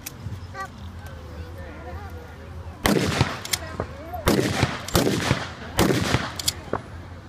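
Gunfire at an armed forces event battle reenactment, with several loud bursts and single shots cracking out in irregular groups, while someone talks over the action in the foreground.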